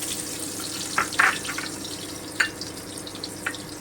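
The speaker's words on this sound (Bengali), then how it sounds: "এখানে দুটো পেঁয়াজ আছে আমি হালকা ব্রাউন করে ভেজে নিচ্ছি" Two chopped onions frying in oil to a light brown for a Bengali rui fish kalia, giving a steady soft sizzle with a few sharp pops and crackles scattered across it.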